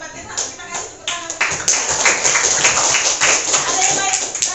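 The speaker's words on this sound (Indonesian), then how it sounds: "Hebat ya, kita kasih tepuk tangan." A school class claps for a student, a burst of many hands clapping close and loud, with voices mixed in over the clapping.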